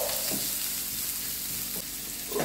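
Onions sauté in two spoonfuls of oil for chicken wing adobo, giving a loud, steady sizzle with a few soft scraping stirs over its brief span and no speech.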